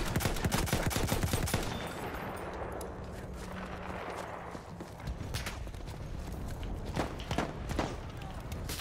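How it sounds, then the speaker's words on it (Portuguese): Gunfire in the Battlefield 1 multiplayer video game, with scattered sharp shots and bursts repeating through the stretch over a busy battlefield din, while a voice talks now and then. "Ah, atirando no cara morto."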